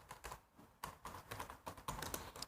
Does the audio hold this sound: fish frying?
no